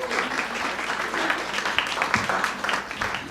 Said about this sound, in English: Let's clap for our panel.